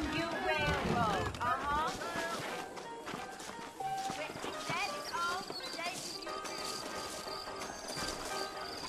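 In Red Dead Redemption, horses clip-clop along a trail with steady rhythmic hooves, a brief whinny near the start and background music. A voice talks over the riding.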